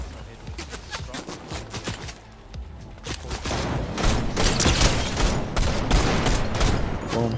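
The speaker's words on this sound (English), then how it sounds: "What's this dude shooting at?" Repeated Fortnite gunfire cracks in quick, uneven bursts that grow denser and louder toward the end. Voices talk over the shooting.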